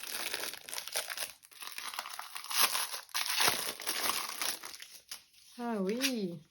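Paper crinkling and tearing as a parcel is unwrapped, close up, with people talking over it and a brief sung phrase at the end.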